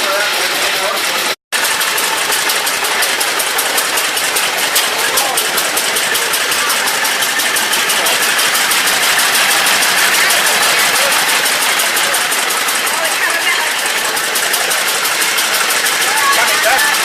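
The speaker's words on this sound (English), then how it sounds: "Do you want to have a look at the engine going around?" Engine at Como Gardens running steadily and close by, a continuous dense mechanical drone with fine rapid pulsing that barely varies, broken only by one instant of silence early on.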